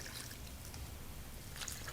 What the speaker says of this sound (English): We'll start adding our cold water in here.